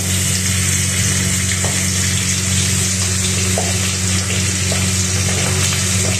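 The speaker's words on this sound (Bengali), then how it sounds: "গরম হয়ে গেছে তেল, তো এর জন্য ফুটছে, দেখতেই পাচ্ছ" Hot oil bubbles and sizzles steadily in a pan while fish fries, a close, loud, unbroken crackle over a low background hum.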